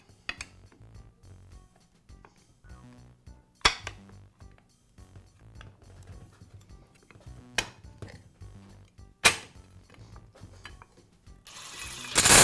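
Lower guard going back onto a Skil circular saw during a bearing repair: scattered close clicks and ratcheting snaps of metal parts, with several sharper clacks spaced through, then a burst of rustling at the end.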